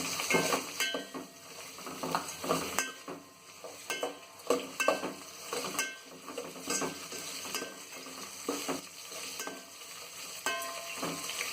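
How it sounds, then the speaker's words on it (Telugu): Carrot and potato pieces frying in a pan for pulao, a steady sizzle with repeated scraping and stirring strokes from a utensil, close and continuous. "ఇప్పుడు దీనిలో క్యారెట్ ఆలు ముక్కలు వేసుకోవాలి"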